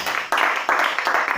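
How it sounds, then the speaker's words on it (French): A church congregation at an Easter service applauding, bursts of dense clapping in quick clusters that rise and fall, fairly close and lively. "On applaudit Jésus-Christ pour la Sainte de l'Univers."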